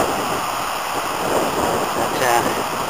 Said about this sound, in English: Spectacular waterfalls.